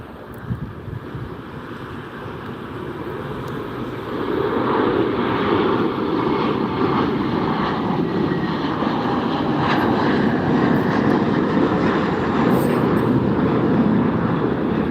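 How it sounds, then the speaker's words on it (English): A large airplane at Los Angeles International Airport (LAX) roars steadily, the engine rumble building and then holding loud under gusty wind noise on the microphone. "we got a huge plane over there"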